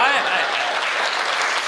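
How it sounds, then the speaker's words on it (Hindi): An audience at a Hindi comic poetry show applauds loudly, a dense burst of clapping that holds steady and slowly thins out. "भाई साहब तालियां तो इस बात पर बजा देना"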